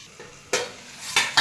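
A mixture of onion, tomato, ginger, garlic and cashews being stirred in a frying pan, quiet sizzling broken by a few sharp scraping strokes of a spoon.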